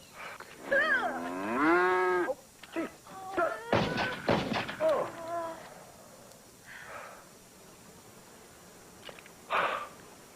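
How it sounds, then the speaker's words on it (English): An injured cow in a movie scene moos in long, drawn-out calls, loud and close. Heavy thumps and thuds follow, and a few fainter sounds come later. "he tries to put an injured cow out of its misery"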